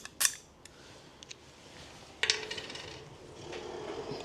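Bolt and sleeve being fitted to Jet Barkbusters on a KTM 690 Enduro R handlebar: a few light metallic clicks and taps, then a scraping, rattling handling noise, close and quiet.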